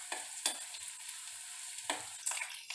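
Garlic frying in a pan for a Punjabi kadhi tadka, a soft, steady sizzle with a few brief scraping stirs of a spoon.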